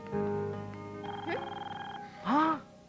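A phone rings with a bright electronic tone, steady for a couple of seconds, followed by a short voice-like warble near the end.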